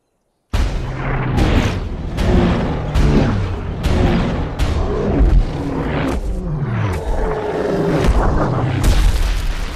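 Weapon fired in a film scene, a series of heavy, loud booms that burst in abruptly and roll into one another with a rumbling tail, several distinct blasts across the stretch.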